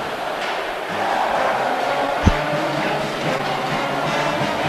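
An energetic college hockey arena crowd roars steadily at Michigan late in a tied game against Ferris State, a dense, continuous wash of cheering with one sharp bang near the middle.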